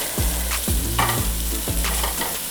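Beef sausages frying in a dry pan with no oil, a loud steady sizzle broken by repeated scraping strokes as they are stirred and turned, close up with no talking.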